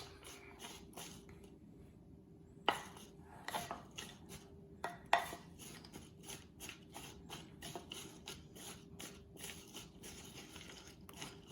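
Honey is being mixed into charoset in a bowl with a utensil, giving faint, irregular scraping and clinking taps. A few sharper knocks stand out against a quiet background.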